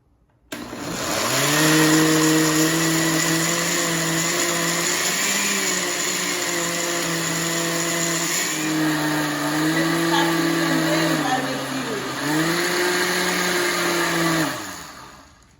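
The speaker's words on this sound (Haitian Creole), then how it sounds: "On va blender." A blender whirs loudly and steadily for over ten seconds, blending Haitian epis spices with cloves and a little oil, its motor pitch dipping briefly midway before cutting off.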